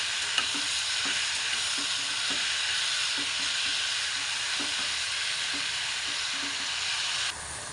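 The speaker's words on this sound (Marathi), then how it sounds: "त्यांनाही व्यवस्थित परतून घ्यायचे आहे" Washed mushrooms sauté in a hot pan with a steady, close hiss of sizzling oil and occasional soft stirring scrapes, with no voices.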